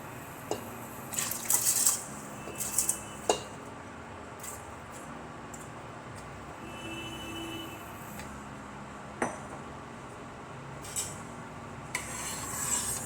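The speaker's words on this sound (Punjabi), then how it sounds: "ਚੌਲ ਪਾ ਕੇ ਮਿਕਸ ਕਰ ਦਵਾਂਗੇ" Washed rice being stirred into roasted jaggery in a pressure cooker, with soft scraping and wet squishing plus a few light metallic clinks of a spoon against the pot, quiet and close with no talking.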